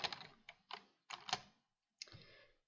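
Typing on a computer keyboard while entering text in AutoCAD: short bursts of crisp key taps in uneven clusters with brief pauses, close and quiet, with no talking.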